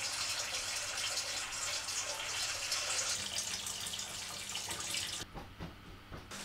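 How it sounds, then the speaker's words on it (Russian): A 500-litre aquarium sump running with water, a steady soft rushing and trickling flow throughout, with faint clunks near the end. "Залили мы баночку водой, запустили систему, вот самп работает, шуршит потихоньку"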